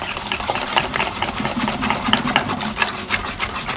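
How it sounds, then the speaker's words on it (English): Coffee cake batter being whisked by hand in a bowl, a steady run of quick, close scraping and tapping strokes with no talking. "I'm going to go ahead and get the whisk and whisk that together."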